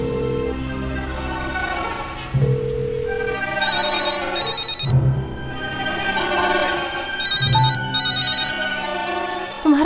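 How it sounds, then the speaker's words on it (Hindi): A phone ringtone plays a repeating melodic tune, loud and close, cycling several times without interruption. "तुम्हारा फोन बज रहा है, उठाती क्यों नहीं?"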